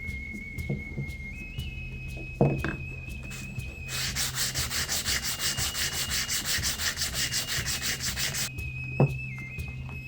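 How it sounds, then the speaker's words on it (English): A brass-fitted wooden throwing-axe handle, set with epoxy, is sanded smooth in a long run of steady, rhythmic back-and-forth strokes, close and fairly loud, with quieter handling knocks before and after. "I trim off the axis brass and sand it smooth"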